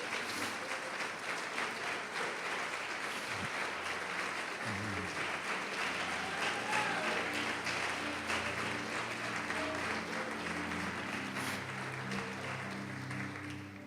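A church congregation applauds during a worship service, with sustained, fairly faint clapping that holds for over ten seconds while music or voices hum underneath.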